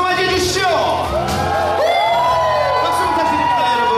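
Audience cheering, whooping and clapping to welcome a singer at an Aladdin music showcase, with loud crowd noise and shouts sustained throughout and no clear speech.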